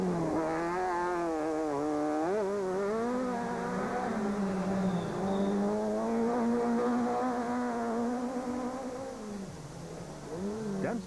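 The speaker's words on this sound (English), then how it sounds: "The engine notes of the S2000 cars reverberated off the mountains as they continued to suss out the pace" S2000 rally car engines at the 2006 Tzaneen Rally rev in a steady, sustained drone with rising and falling pitch, loud and continuous throughout, echoing in a mountain setting.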